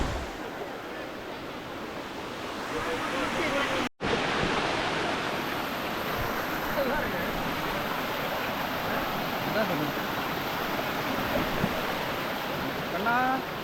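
Krabi Hot Stream waterfall in Thailand, warm water pouring and flowing in a steady, loud broadband rush that holds constant throughout, with a brief break near the start.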